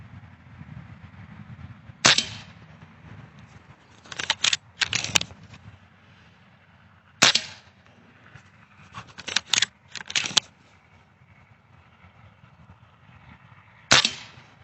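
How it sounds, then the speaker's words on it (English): Umarex Komplete air rifle fired at targets in the dark, giving sharp, snappy single shots spaced every few seconds, each followed by quick clicks and metallic clatter of cycling and target hits, over a quiet background. "I do like the way the Umarex Komplete shoots."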